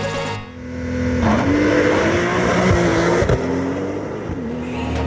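A fast electric BMW M5 at speed gives mostly steady road and tire roar with a faint rising whine, nearly no engine note, continuous and loud throughout.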